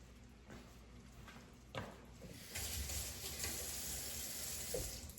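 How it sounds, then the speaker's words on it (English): Seasoning vegetables sautéing in a pan for crawfish étouffée, a faint low sizzle that swells after a brief clatter and holds steady. "now we're gonna let the seasoning saute"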